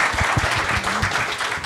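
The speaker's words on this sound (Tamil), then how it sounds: "ஸோ அதுக்கே ஒரு கைத்தட்டு கொடுத்துடலாம் நம்மளோட அந்த டீமுக்கு" Audience applause for a film team at a live event, a short burst of scattered clapping with a few louder individual claps and light crowd noise.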